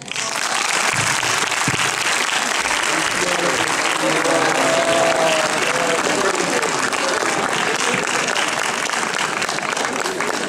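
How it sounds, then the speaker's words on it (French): Loud, dense crowd applause and cheering at the Gangsterdam film premiere, continuous and close, with shouting voices and chatter mixed through the clapping. "Sous ces applaudissements."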